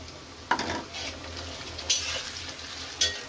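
Onion with cumin powder and a few green chillies frying in a pan: a soft, steady sizzle broken by three brisk scraping stirs of the spoon against the pan, no voices.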